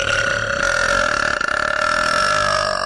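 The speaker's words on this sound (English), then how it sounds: "I'm gonna burp." A long, sustained burp from an adult host, loud and continuous with a steady droning tone, heard close and alone with no talking over it.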